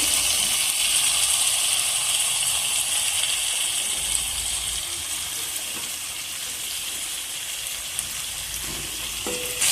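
Water is poured into a pan of pointed gourd curry with prawns cooking over heat, a steady sizzling hiss with a brief stir near the end, no voices.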